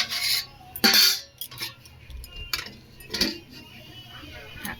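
A lid set onto a pot of dal cooking in a wok, a few sharp metallic clinks and clatters close by, separated by quiet gaps.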